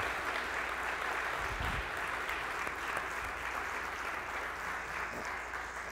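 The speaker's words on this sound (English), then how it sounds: "Would you give them a round of applause as well?" A church congregation on Mission Sunday gives a sustained round of applause, an even wash of many hands clapping in a large room, moderately distant and holding steady for several seconds.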